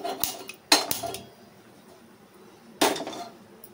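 A metal kadai pan set down on a stovetop, giving a few sharp clanks and scrapes in three short bursts, close and fairly loud, with quiet gaps between them and no voices.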